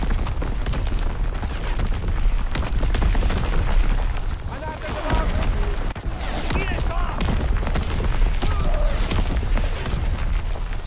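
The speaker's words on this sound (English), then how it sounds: "Incoming enemy artillery" Call of Duty WW2 artillery shells boom and rumble in a steady barrage, dense low thuds rolling under voiced game announcements and chatter.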